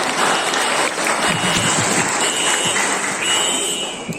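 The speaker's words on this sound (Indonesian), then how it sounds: "Beri tepuk tangan dia." A crowd claps for a participant at a Malaysian state election campaign launch event in Tambunan, a loud, continuous wash of many hands with faint voices mixed in, fading slightly near the end.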